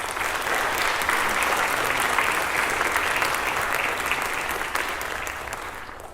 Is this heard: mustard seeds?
no